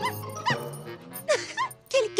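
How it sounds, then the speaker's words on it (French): A cartoon dog yipping and barking in short, squeaky bursts, three or four close calls with brief pauses between them. "Quel cabot, celui-là!"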